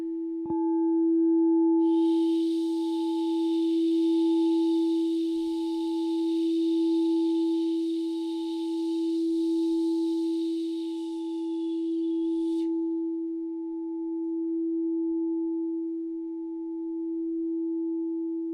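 A sustained, pure ringing bowl tone hums steadily with a gentle pulsing wobble, a faint airy hiss riding above it for a while before fading out.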